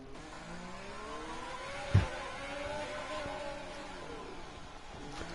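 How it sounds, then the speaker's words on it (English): A Formula 1 car in a PS4 racing game pulls into the pits, its engine droning and shifting pitch at moderate level, with a short thump near the start and a steady whirring tone after. "And into the pits he comes."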